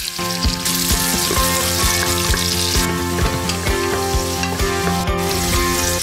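Onions sautéing in olive oil inside a pressure cooker for beef pares, a loud, close, continuous sizzle and crackle heard alongside tonal background music.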